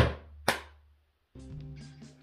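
A volleyball approach: feet land hard on the court floor with a sharp thud, quickly followed by a loud hand strike on the ball, then a pause and a steady sustained tone that trails off.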